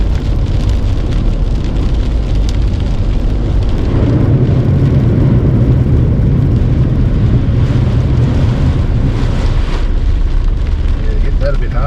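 Car driving hard through water flowing across a highway on the Nullarbor, with a loud continuous roar of splashing spray and rumbling tires that fills the whole stretch without letup.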